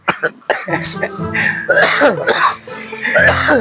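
Someone coughs in the middle of Sundanese conversation, a few short harsh bursts early on followed by continuous talk and voices that overlap.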